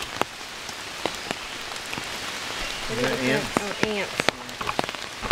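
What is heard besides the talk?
rain falling outdoors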